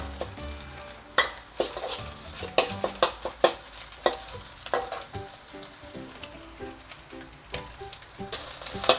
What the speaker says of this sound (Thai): เดี๋ยวตอนนี้ให้ไข่ สุกอีกสักหน่อยก่อน